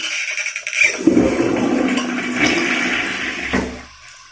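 A toilet flushes after being unclogged, water rushing loudly down the bowl for a few seconds before tapering off.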